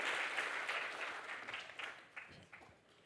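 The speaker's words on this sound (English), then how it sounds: "let's give another applause to Bruno" An audience applauds speaker Bruno Faidutti at a talk on board games and video games, a dense round of clapping that starts full and thins out into a few scattered claps.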